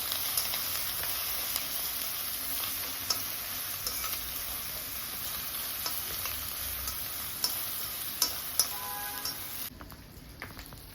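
Garlic and ginger paste is stirred in a pan over a continuous close sizzle, with scattered light ticks and scrapes from the spoon, and the hiss cuts off sharply near the end, with no talking.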